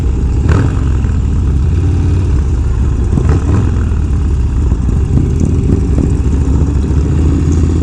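A motorcycle's big high-performance engine runs loud and close, a dense continuous roar with rough throttle blips and revving throughout, no voices over it.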